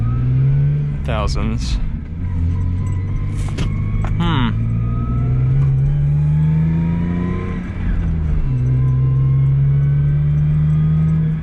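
A Lexus IS 300 with a manual gearbox idles in neutral with a steady, loud engine drone that dips briefly and then settles, heard under someone talking.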